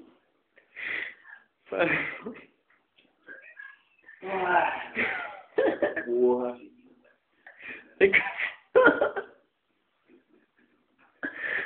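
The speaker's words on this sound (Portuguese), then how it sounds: "Tá cansado? Tá roncando pra cá." A person snores in loud, wheezy, rasping bursts close to the microphone, the breaths coming in an uneven rhythm with short pauses between them, and a brief spoken word in between.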